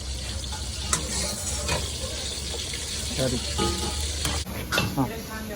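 Garlic and green chilli frying in oil in a pan at a dhaba kitchen for mutton paya soup, a steady close sizzle with stirring scrapes and clinks throughout, brief water sounds, and talk over it.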